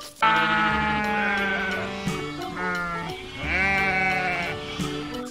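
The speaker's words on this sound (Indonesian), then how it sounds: "ada si kambing betina" A goat bleats in several drawn-out, wavering calls, close and fairly loud, with short pauses between them.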